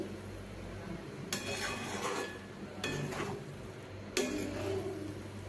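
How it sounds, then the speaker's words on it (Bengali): Gobindobhog rice pulao being stirred in a pot, with three scraping bursts of spoon against metal at a steady pace over a low kitchen hum. "এইভাবে নাড়ছি"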